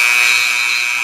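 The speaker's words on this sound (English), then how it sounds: "You heard the buzzer real loud because no one is loud" A buzzer blares in a hushed basketball stadium after a game-winning three-pointer, one steady, harsh, loud tone running through the whole moment with no crowd noise behind it.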